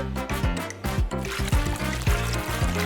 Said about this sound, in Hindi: मुझे बस थोड़ा पानी चाहिए। इसे भरना है।